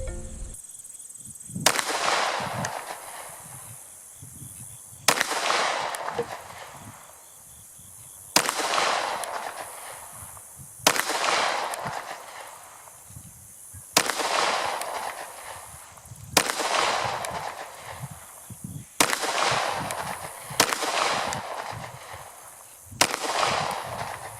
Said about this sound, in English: It's the threaded barrel, and I'm going to give 10 shots, try to keep them as tight as I can.